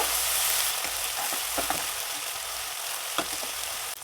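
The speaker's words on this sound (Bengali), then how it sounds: "জিরা বাটা শুকনা ঝাল বাটা স্বাদ মতো লবণ হলুদ গুঁড়ো এগুলো হালকা একটু ভেজে নেব" A paste of cumin, dried chili, salt and turmeric frying lightly in oil, giving a loud, continuous close sizzle with occasional soft stirring scrapes.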